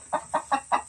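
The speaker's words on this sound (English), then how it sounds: "Very noisy chicken." A hen on a homestead clucks loudly and close, five evenly spaced squawking clucks in quick rhythm, alone with no talk.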